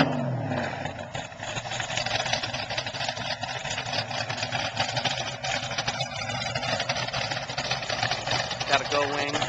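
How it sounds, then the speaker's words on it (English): Exhaust of a 1970 Dodge Challenger R/T with a 440 engine and 4-speed, a steady loud idle with small revs throughout, mixed with outdoor background noise. "Listen to that exhaust."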